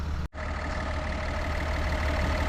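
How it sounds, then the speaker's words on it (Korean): The V6 3.0-litre diesel engine of a 2023 Kia Mohave SUV runs at idle, a steady, even low hum with a brief dip near the start and no talk. "야, 디젤 엔진 소리가 이 정도로 조용하네요."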